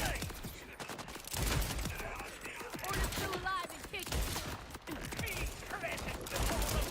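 Borderlands 4 gunfire: rapid, dense bursts of shots and impacts from a rapid-firing gun, keeping up a busy barrage with brief lulls. A voice talks over it at times.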